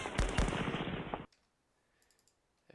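A rapid burst of machine gun fire in a war strategy game, loud and clattering for about a second before cutting off sharply, followed by a few faint clicks.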